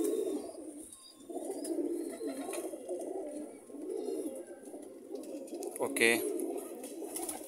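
Lakha high-flyer pigeons coo steadily in a loft, soft rolling calls repeating close by, with a brief word from a man near the end.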